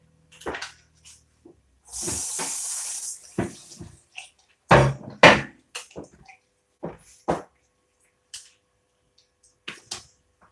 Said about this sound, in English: Let's quickly rinse this in here.